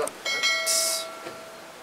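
A short chiming notification bell rings out as a sound effect, a few bright tonal strikes with a lingering shimmering ring that fades within about a second.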